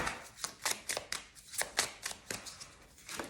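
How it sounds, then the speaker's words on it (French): Tarot cards handled and drawn from a deck: a rapid run of crisp papery flicks and snaps, close and fairly loud, in an uneven shuffling rhythm with no talking. "on va tirer une carte du tarot"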